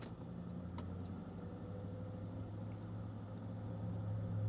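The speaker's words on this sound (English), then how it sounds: "the exhaust tone is great to listen to" A low, steady exhaust drone heard from inside a moving 2005 Chevrolet SSR pickup truck, smooth and fairly quiet, swelling slightly toward the end.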